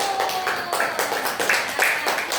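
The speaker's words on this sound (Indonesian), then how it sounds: "Untuk itu tepuk tangan untuk kelas 1 kelompok 1" A class of students claps for a group that has just presented, a short burst of fairly loud, close clapping with uneven, choppy rhythm and some irregular louder hits.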